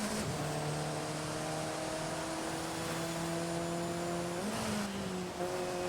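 A 2014 Alfa Romeo 4C in Forza Horizon holds a steady, sustained engine drone while sliding through a turn, pitch stepping down near the end as the revs drop, with faint tire noise underneath.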